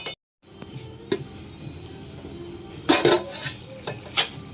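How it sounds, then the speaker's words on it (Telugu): A metal lid clanks onto a pot of brinjal and egg curry over a medium flame, a brief gap then soft cooking hiss, a single click, and a cluster of sharp metallic knocks near the end. "మీడియంగా ఫ్లేమ్ పెట్టేసుకొని మూత పెట్టేసుకుందాం ఫ్రెండ్స్"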